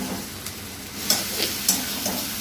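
Eggs frying in a spiced masala in a pan give a steady sizzle, with a few brief stirring scrapes rising above the crackle and no voices.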